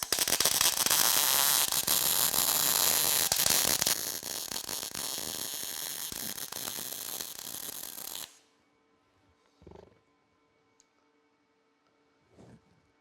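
MIG welding on a round part turning on a Vevor weld positioner, a loud steady crackling buzz for about eight seconds that steps down partway, then cuts off into near silence with a couple of faint clunks.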